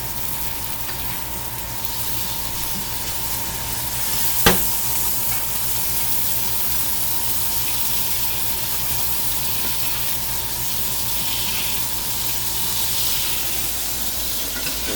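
Steak sizzles and fries steadily in a hot skillet with rosemary while a spoon bastes it, giving a continuous bright hiss with one sharp clink near the middle.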